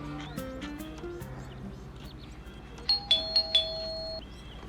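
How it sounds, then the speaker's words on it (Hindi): A doorbell chimes several bright tones in quick succession, clear and fairly close, after some faint background voices. "घंटी बजाओ।"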